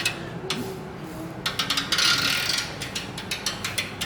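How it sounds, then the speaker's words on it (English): Hand ratchet loosening an exhaust clamp on a 2017+ Harley-Davidson Touring with a Milwaukee-Eight engine, close rapid clicking in short bursts with brief pauses between them. "Loosen this clamp here."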